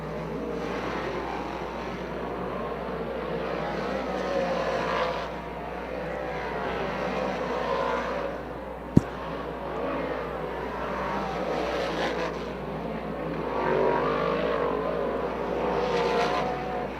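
Dirt track modified race cars running hot laps at Bridgeport Motorsports Park, a continuous roaring engine drone that swells and fades as cars circle, with a single sharp click midway and no talk.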